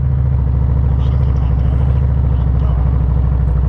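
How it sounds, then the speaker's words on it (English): A Harley motorcycle idles high at about 1,500 RPM, a loud, steady, close-range rumble with an even pulsing beat. "she's idling high."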